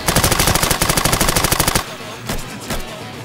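An assault rifle in the video game Insurgency fires a rapid, loud burst that lasts nearly two seconds. It stops abruptly and two single, quieter shots follow in the background.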